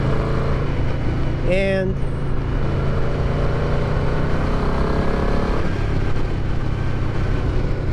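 Yamaha VMAX muscle bike ridden in fifth gear, a continuous loud engine hum with wind rush, a brief spoken word and a short high whine early on.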